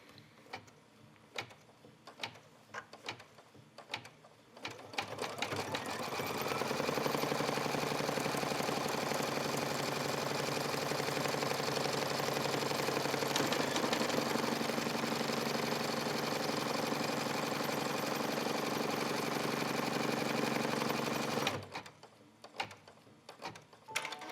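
An embroidery machine stitches a zipper clutch with a steady, fast mechanical whir that runs for about fifteen seconds. Softer clicks and handling noises come before and after it.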